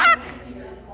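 A pet parrot at a market lets out one short, loud, raspy squawk up close, and then only faint background murmur remains.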